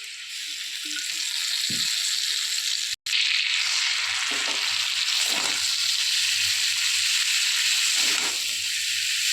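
Chowmein and vegetables stir-frying in a little oil with soy sauce and salt, a steady, loud, close sizzle and hiss running throughout, with a few soft scrapes and one brief cutout.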